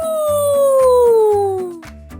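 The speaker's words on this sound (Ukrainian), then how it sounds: "Сірий вовк. Поговоримо з ними." A grey wolf gives one long, loud howl that slides steadily downward in pitch, set over a steady rhythmic musical beat, before fading out near the end.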